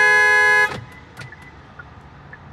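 A single loud, sustained car horn blast from a family car, held for about two-thirds of a second and then cut off, leaving quiet ambient background with a few faint knocks.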